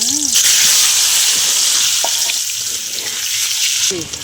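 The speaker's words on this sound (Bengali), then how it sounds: "আলুগুলো ভেজে নেব" Potatoes frying in oil in a kadai give off a steady, close hissing sizzle that fades slightly, with brief clinks and a faint voice at the start and end.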